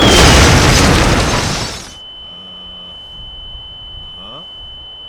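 Explosion destroying a watchtower in an army-men commando battle: a loud, dense blast with shattering debris for about two seconds, then cutting to a quiet background with a faint tone and a brief chirp.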